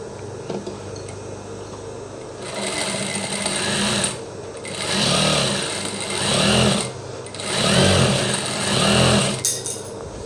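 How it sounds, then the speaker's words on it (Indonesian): A sewing machine stitching a Japanese zipper runs in several loud, close bursts of rapid mechanical whirring and ticking, with short pauses between runs and no talking. "untuk bagian sisa ini perlu kita jahit teman-teman, supaya nanti tidak mengenai badan"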